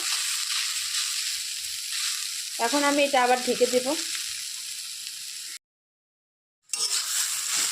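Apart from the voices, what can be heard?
taro (kochu) frying in a pan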